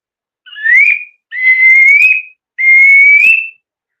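A widgeon duck call whistle sounds three times, each a loud, close, drawn-out whistle that rises slightly in pitch, separated by silence.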